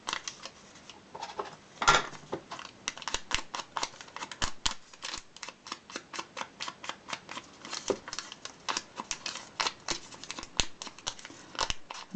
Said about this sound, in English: I'm literally going to tear a rectangle like that